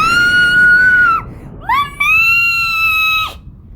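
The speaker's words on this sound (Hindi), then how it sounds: "कुछ देर बाद उसने खुद को संभाला और फिर एक चीख आई।" A woman's loud, high-pitched scream in a horror story, two sustained shrieks separated by a short rising cry, ringing out alone with no talk.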